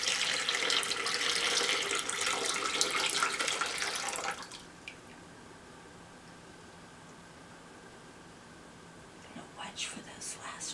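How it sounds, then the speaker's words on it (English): Water poured from a basin into a spill bucket during shell scrubbing, a close splashing pour lasting about four seconds then stopping abruptly, leaving near-silence with a few faint trickles and movements afterward. "And again, pour into the spill bucket."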